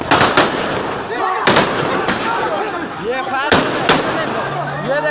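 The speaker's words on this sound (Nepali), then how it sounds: "ये देखो फायर हो रहा है" Repeated gunshots ring out during a customs raid on a container of smuggled cloth on a Karachi road, sharp loud cracks in irregular bursts with echoing tails, while agitated voices shout and talk throughout.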